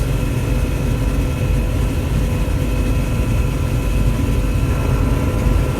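Tractor engine running steadily during harvest work, a loud, continuous low droning rumble that holds constant for the whole stretch, with no voices over it.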